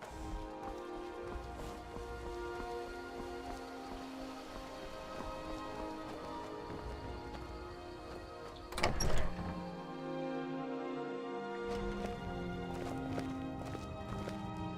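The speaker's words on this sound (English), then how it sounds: "There's my horse." Hooves of a horse in Skyrim clop along over a steady wash of rain, a soft rhythmic walking pace with one brief louder thud partway through.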